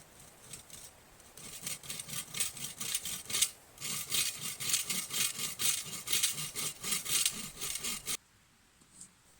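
A hand saw cuts a notch into the top of a wooden post at a camp fire pit, rasping in steady back-and-forth strokes up close before stopping abruptly.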